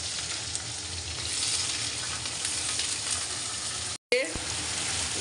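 Idli data stems fry with potato, salt and turmeric in a pan, giving a loud, steady close-up sizzle. It cuts out briefly, then returns with a stirring scrape.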